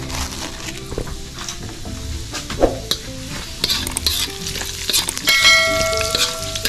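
Annatto seeds sizzle and crackle in hot oil as the first step of cooking beef short ribs ginataan, with steady frying hiss, stirring scrapes and a few sharp metallic clinks of utensil against pan.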